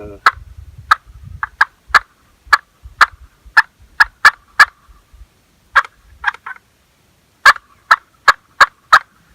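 Sharp, close clucks from a turkey call, sounded singly and in quick pairs with short pauses between, over a faint scraping.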